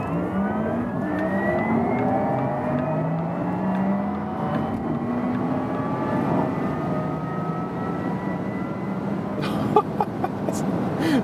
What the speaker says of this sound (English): there's this additional electric sports sound activated, and brace yourself because this acceleration here is absolutely insane